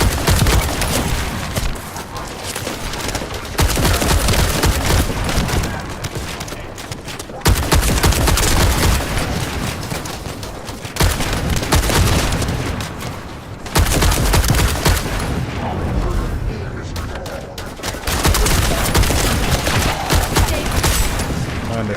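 Loud, sustained bursts of heavy automatic gunfire from a powerful weapon in The First Descendant, rattling almost continuously across the whole stretch with brief breaks between volleys.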